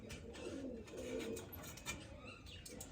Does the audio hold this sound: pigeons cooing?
yes